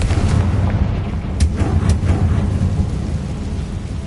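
A Confringo fire spell blasting in the video game Hogwarts Legacy, a deep rumbling boom with a couple of sharper bursts inside a steady loud roar, no talking.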